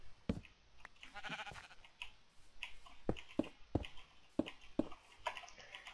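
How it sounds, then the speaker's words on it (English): Sheep bleating in Minecraft, a few short bleats among sharp game clicks and block-placing taps, close and moderately loud with no talking. "Okay, sheep, we're gonna trap the sheep here."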